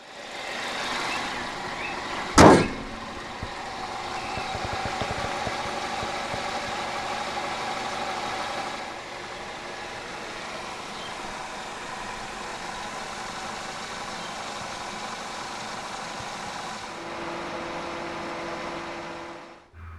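A 2001 Toyota Corolla Altis 1.8 G cranks with a short, loud start-up burst, then settles into a steady, even idle that runs on alone.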